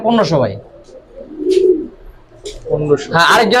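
Giribaz and coloured pigeons cooing, with soft low coos in the middle and a voice talking before and after them.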